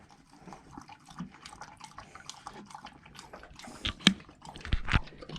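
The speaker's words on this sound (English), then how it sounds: "I'm gonna put some water in there for my dog." Water poured from a carried bottle into a small rock hollow for a dog on Cedar Mesa, heard outdoors as a few quiet splashes and drips that swell to a couple of louder splashing bursts near the end.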